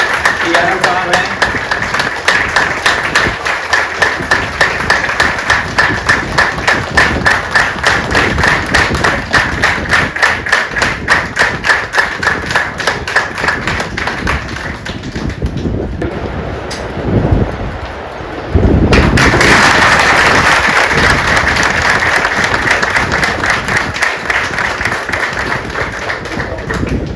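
Rhythmic clapping from a crowd at a railway office farewell party, loud and steady in a regular beat, thinning briefly near the end before resuming, with voices mixed in underneath.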